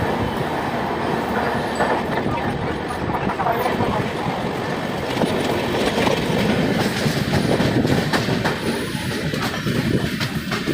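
A Northeast superfast express train on the Delhi line runs steadily on its rails, with constant loud rumbling and rhythmic clickety-clack of the wheels, heard close up from on or beside the train and without talking.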